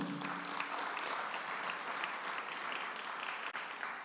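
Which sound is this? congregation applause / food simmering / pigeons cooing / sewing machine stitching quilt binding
congregation applause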